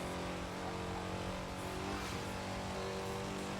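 A car engine revving hard in the racing game Burnout Paradise on Xbox One, a loud, steady, sustained roar that holds its pitch without pause.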